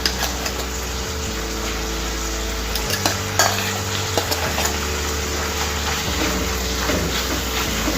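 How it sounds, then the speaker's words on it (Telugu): Ground chana dal and ground coconut are stirred into a curry in a pan, giving a steady low sizzle and frying hiss with soft scraping strokes of the spoon and no voices. "ఇలా వేసి ఇదంతా ఒకసారి కలిపేసుకొని"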